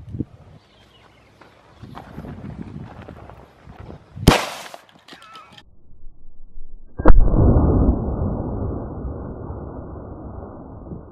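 A Glock 19 pistol fires at spray paint cans from a distance: light clatter, then a sharp crack, then a second loud burst followed by a steady rushing hiss from a punctured can.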